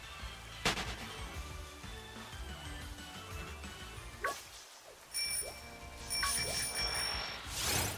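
A bicycle bell rings on a bike in the Pokemon Shield video game. Bright metallic dings sound over soft background game sounds, with several thuds and swooshes around them.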